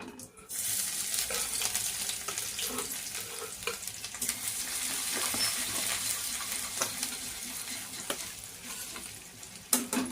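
Finely chopped garlic and ginger hit hot oil in a kadai and sizzle loudly and steadily, with occasional stirring scrapes and crackles, close up and without voices.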